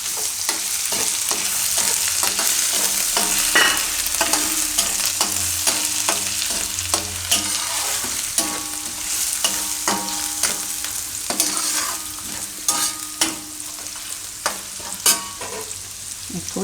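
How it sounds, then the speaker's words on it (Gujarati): Vegetables for a Gujarati shaak fry in a pan with fresh green turmeric, being stirred and scraped repeatedly, a loud close sizzle broken by frequent utensil clicks and scrapes. "આ રીતે ફેરવી લઈએ થોડીક"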